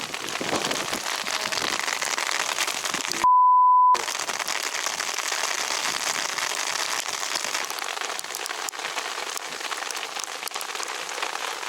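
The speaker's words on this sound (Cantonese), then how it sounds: "行山點解落冰雹㗎？" Hail falls during a hike in the UK, a dense steady patter and crackle of ice pellets striking the ground and surfaces around, continuous and fairly loud, broken briefly by an inserted beep tone.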